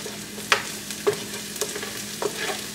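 Onions sizzle softly in a pan while a utensil scrapes and taps four times at a slow, uneven pace, with a low steady hum underneath.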